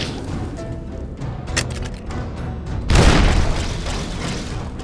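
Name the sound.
bomb explosion in the video game Fallout New Vegas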